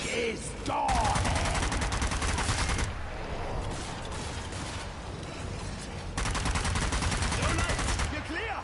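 Sustained gunfire in Zombie Army 4 pounds at a tank in long automatic bursts, loud and close, with a brief lull in the middle before firing resumes.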